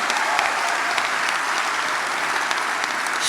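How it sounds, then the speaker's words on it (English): Dense, steady audience applause at a public conversation event with Nancy Pelosi, many hands clapping at a constant level throughout with no talk over it. "let's give her a big round of applause"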